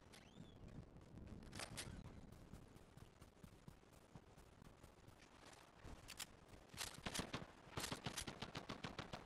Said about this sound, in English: Someone popping shots behind us.